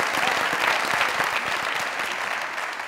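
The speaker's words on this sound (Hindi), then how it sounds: "जोरदार तालियां" Loud, sustained applause from a studio audience on a Pakistani comedy talk show, a dense even wash of clapping that holds steady throughout.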